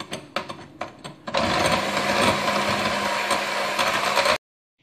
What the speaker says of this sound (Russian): Продолжаю взбивать белки.